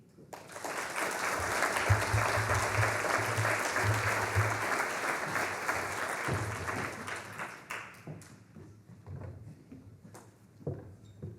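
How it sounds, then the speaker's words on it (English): Audience applause after lightning talks at a natural hazards research summit, a broad, steady wash of clapping that fades out after about eight seconds, leaving scattered claps and faint room noise. "let's give them a round of applause"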